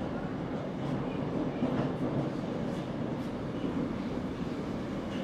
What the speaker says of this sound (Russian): Помашем каждому прибывающему поезду на следующем.